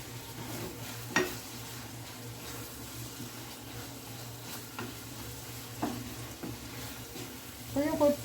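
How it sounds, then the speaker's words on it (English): Herbs frying in a pan, a soft, steady sizzle with a low hum underneath, broken by occasional utensil knocks and scrapes and a brief clatter near the end, with a faint voice in the background. "You just fry up your herbs."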